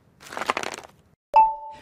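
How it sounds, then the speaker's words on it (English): A brief crunchy crackling burst of ice cracking in soda, then a sharp crack followed by a ringing ding that fades, close and fairly quiet. "That's the intern Dale, cracking ice for a soda."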